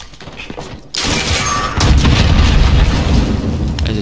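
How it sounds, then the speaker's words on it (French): Loud explosions in Call of Duty: Modern Warfare burst in close succession, a heavy blast at the start and a bigger roar midway, with crackling gunfire-like rumble filling the rest. "Les explosions sont pas mal aussi."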